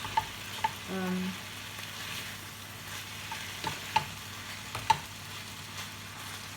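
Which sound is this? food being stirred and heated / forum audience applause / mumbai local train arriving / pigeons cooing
food being stirred and heated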